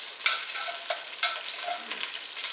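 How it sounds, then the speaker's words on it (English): Beef browning in a couple tablespoons of hot vegetable oil in a pot for pot roast, giving a steady broadband sizzle with a few brief stirring clicks, close and moderately loud, no talking. "you want to brown both sides of the meat so that you get some good flavor in there"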